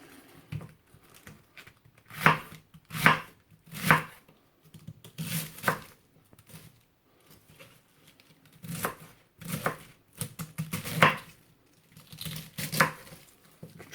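Cabbage being chopped for sauerkraut, knife strikes coming in quick clustered bursts of three or four with short pauses between, close and moderately loud on a board, no voices.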